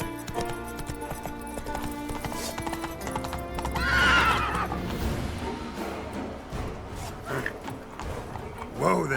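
Roach, a horse in The Witcher 3: Wild Hunt, galloping with rhythmic hoof clip-clops and a loud whinny midway, under game music and a brief spoken line from a character.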